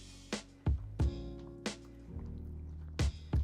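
A spoon stirs creamy spinach pastina with parmesan and mascarpone, giving soft wet squishes and several sharp taps against the pot at an uneven pace, close and fairly quiet.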